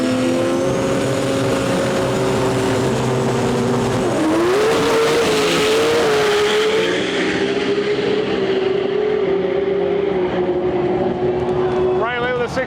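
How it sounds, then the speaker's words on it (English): Drag race cars roar at a strip, one lined up against a Mazda RX-8, with loud sustained engine drone rising in pitch as they accelerate, and a faint voice over the din. "First pair up, we're racing this RX-8 over here."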